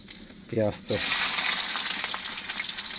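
Onions frying in a pan in a home kitchen, a loud continuous sizzle bursting in after a brief tonal sound, then holding steady with faint stirring.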